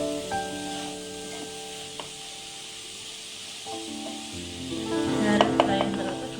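Grated carrots frying and being stirred in a pan for carrot halwa, a low steady sizzle with scraping stirs that grow louder toward the end, with a faint tonal hum in the background.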